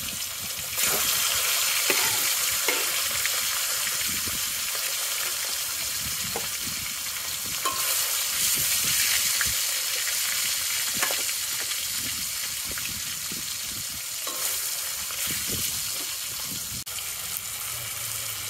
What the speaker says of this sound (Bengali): এখন শুরু হয়ে গেল আমাদের কাঁকড়াটা ভেজে নিচ্ছে